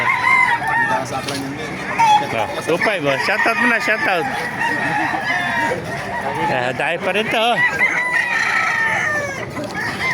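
Roosters crow repeatedly at a busy Baliuag chicken market, with hens clucking around them and several voices bargaining close by throughout.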